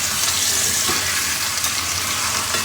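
Pork chops searing in butter in a hot pan, a loud, steady, close sizzle filling the whole clip with no break and no talk.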